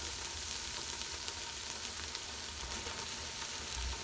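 Carrot, cabbage and capsicum frying together in a pan for a sandwich filling, a soft continuous sizzle with faint stirring throughout.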